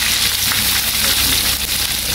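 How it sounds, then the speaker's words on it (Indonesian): Loud steady sizzle of marinated chicken frying in hot oil for Indonesian ayam penyet, a dense crackling hiss with faint pops throughout and no voice over it. "kemudian goreng ayam yang telah kita ungkep"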